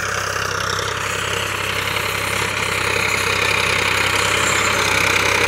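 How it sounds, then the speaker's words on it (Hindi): A Farmtrac 60 tractor engine idles close by, a steady rumbling diesel drone with a faint rhythmic knock, holding an even, loud level throughout with no talk over it. "देखिए 60 ट्रैक्टर क्या शानदार ट्रैक्टर है।"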